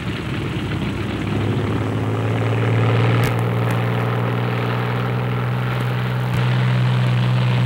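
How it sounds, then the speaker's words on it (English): A pair of WWII fighter aircraft taxi out, a steady, fairly close propeller engine drone with a strong low hum that holds throughout, with a couple of sharp clicks on top. "Second pair taxis out."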